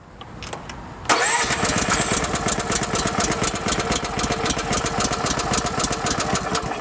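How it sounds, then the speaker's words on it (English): After a quiet moment, the engine on a SealMaster SM-125 direct-fire melter cranks and catches at full choke. It settles into a loud, steady running chug close by. "we can go ahead and roll that engine over"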